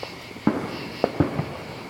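Spinning battery fireworks going off outdoors, a quick burst of three or four close, sharp cracks and pops over a low background rumble.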